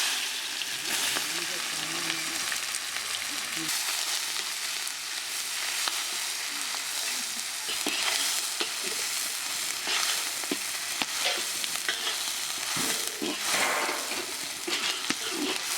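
Onions sizzle loudly in hot oil for a tempering, with scraping stirs and occasional clinks of a utensil against the pan, close up and continuous.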